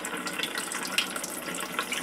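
Water spills and trickles over the lip of a model open-face waterfall reservoir fed from a bucket, a steady, fairly quiet splashing flow with small bright drips, heard alone without talk.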